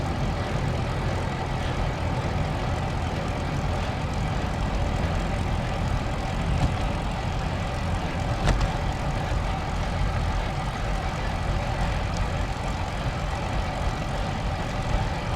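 Steady wind buffets a cyclist's microphone on a smooth road, a continuous low rumbling roar that holds evenly throughout with no talking.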